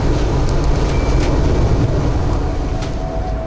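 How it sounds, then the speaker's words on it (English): Train at Putney railway station, London, giving a loud, steady rumble of rolling stock that fills the whole stretch, with faint rattling on top and no talk. "Right, we're now at Putney Station."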